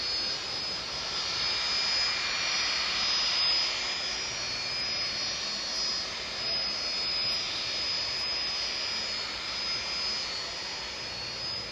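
Jet engines of an ex-Air New Zealand Star Air freighter at East Midlands Airport at night, a continuous loud roar with a thin high whine rising slightly midway.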